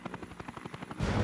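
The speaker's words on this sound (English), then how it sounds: "You're getting pretty close to the building in that helicopter, Jack." A helicopter in the video game Dead to Rights, heard as a rapid rhythmic rotor chop that gives way to a louder, rougher roar at the end.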